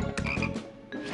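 Cartoon croaking of a speckled tree frog, two loud, raspy croaks close up, separated by a brief lull, with no talking over them.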